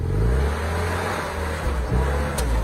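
An old car, bought new for just over $1,000, drives straight toward the listener across a field, its engine a steady, close, loud hum that swells slightly.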